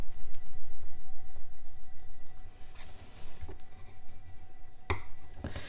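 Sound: smoothing a planner page with a bone folder

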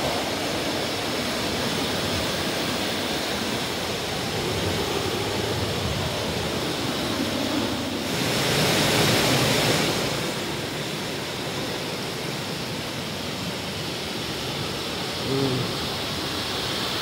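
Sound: powerful rushing floodwater after a storm

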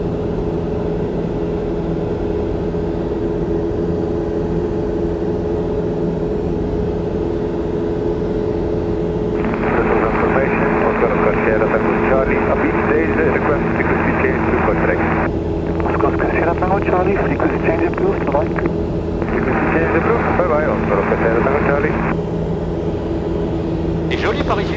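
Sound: light aircraft engine in cruise flight

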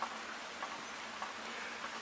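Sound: rain falling

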